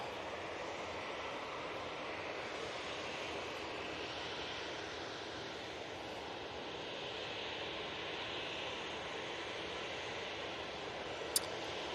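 EasyJet airliner touching down on the runway at Manchester Airport, a steady broad jet roar held at moderate distance for the whole stretch, with no talking.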